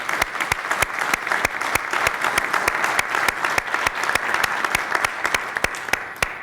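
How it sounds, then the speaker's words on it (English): Big round of applause for Steve, the retiring director of golf, at a budget presentation: a close, loud crowd of clappers with sharp individual claps standing out over the dense wash, steady the whole time. "So let's give Steve a big round of applause"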